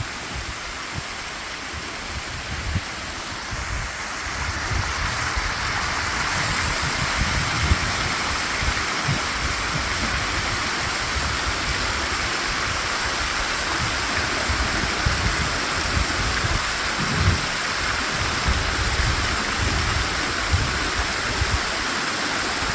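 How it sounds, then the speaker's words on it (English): Water sprays and gushes in several directions from a leak, a steady, close, broadband rush of spouting water that runs continuously and alone, with low rumbling surges under the hiss. "There's water spouting in all directions."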